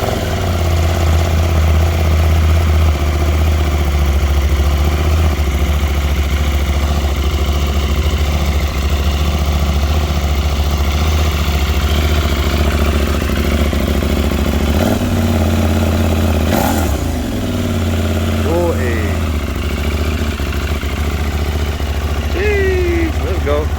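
A KTM Duke 890R motorcycle with its catalytic converter removed runs at a steady, loud idle throughout, a dense continuous engine drone that stays close and constant with a brief dip midway.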